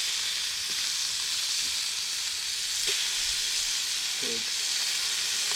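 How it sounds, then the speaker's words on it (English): Bacon sizzles and spits in a Dutch oven set over campfire coals, a steady broadband frying hiss running the whole time with a few soft pops and faint knocks, close and alone with no talking. "We're going to get us some bacon cooking. Who doesn't like bacon? Sizzling, right?"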